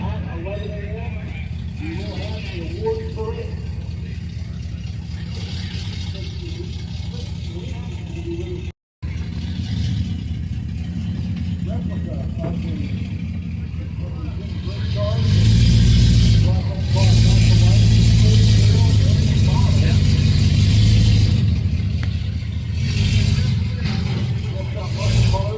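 A 340 Duster drives up onto a trailer, its engine running steadily at first, then revving louder and rumbling up close for several seconds, with voices talking over it.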